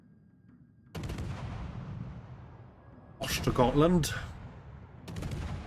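Warship guns firing in the naval video game World of Warships Legends, a few loud booming salvos spaced apart with rumbling decay, while someone talks over them.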